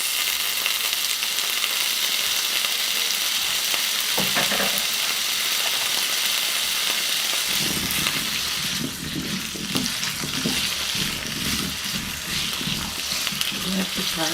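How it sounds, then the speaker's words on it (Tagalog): Potato and carrot frying in a pan for a chicken curry, a steady bright sizzle that runs the whole time, with stirring scrapes and clatter joining partway through and no voices over it. "I have to fry the potato and carrot."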